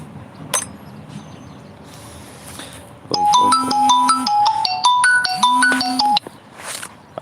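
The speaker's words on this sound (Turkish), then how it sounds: "Arkadaşlar telefonumuz susmuyor maalesef." A phone rings through a live stream where a broken bolt is being removed: a loud electronic ringtone melody with repeating stepped notes plays twice in long bursts, after quieter room noise and a few clinks.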